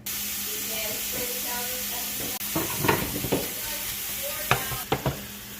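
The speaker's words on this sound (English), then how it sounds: "we're heating up a pot here, and I'm going to brown some ground beef." Three pounds of ground beef browning in a heated Instant Pot: a steady, close frying sizzle and hiss, then intermittent scraping and clattering stirring strokes in the second half.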